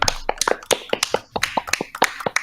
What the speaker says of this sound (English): Everyone clap out once, maybe he can hear us.